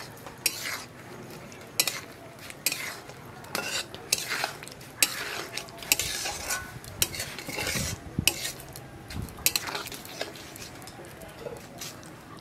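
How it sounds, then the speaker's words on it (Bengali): A spoon stirs fried vegetable manchurian balls into gravy in a pan, giving repeated close scraping and clinking strokes with a soft wet sizzle beneath, and no talk. "এবার এর মধ্যে ভেজে রাখা বলগুলি দিয়ে দিচ্ছি। বলগুলি দিয়ে এটি গ্রেভির সাথে খুব ভালোভাবে মিশিয়ে দিচ্ছি।"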